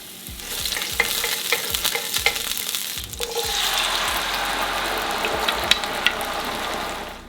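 Chopped onion sizzles steadily in a frying pan with a little oil beside beans, with scraping stirring strokes over the continuous close frying hiss.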